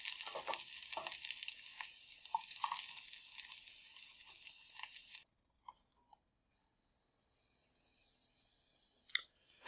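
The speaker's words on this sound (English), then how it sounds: "keep stirring until the pot cools down enough to stop the sizzle" Hot lard sizzling loudly in a pot while pasta is stirred, a dense steady frying hiss with scraping and clicking that cuts off abruptly, leaving faint crackles and a sharp knock near the end.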